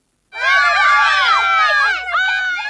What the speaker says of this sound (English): small group open parenthesis 10 close parenthesis of young kids shouting and cheering exterior